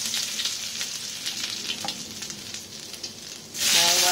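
Ginger sizzles and crackles in hot cooking oil, a steady, close frying hiss with light stirring taps, swelling into a louder, brighter burst of sizzle near the end as more goes into the pan.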